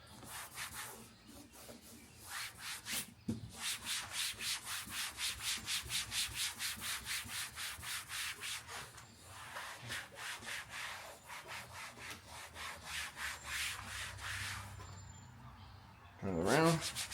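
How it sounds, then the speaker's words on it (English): Cleaner rubbed back and forth into a Tesla interior surface, a rhythmic scrubbing swish repeating rapidly and close, with short pauses between strokes. "you can just go back and forth to rub it in"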